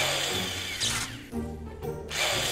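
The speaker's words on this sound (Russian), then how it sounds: "Сверли дырки в холодильнике." Power drill boring holes into a refrigerator in Cafe Owner Simulator, a few short whirring bursts of drilling, fairly close and loud, with no talk.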